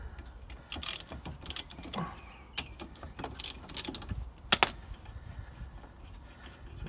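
14mm brake caliper bolts being undone on the front brakes of a Nissan Qashqai, giving quiet, close metallic clicks and rattles in short irregular bursts with no talking.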